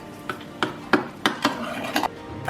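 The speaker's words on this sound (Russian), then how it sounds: "Все хорошо перемешиваю." A spoon scraping and clacking in a bowl as kimchi paste with hot chili pepper is mixed, a steady series of sharp, close strokes about every third of a second.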